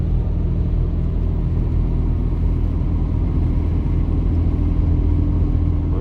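A car driving on rural backroads at night, a steady low engine and tyre rumble holding constant from start to end, close and moderately loud, with no voices.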